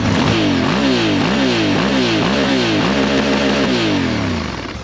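A 2024 Honda Africa Twin motorcycle with a Termignoni exhaust revs in quick repeated rising bursts, loud and close, with a raspy exhaust note before easing off at the end.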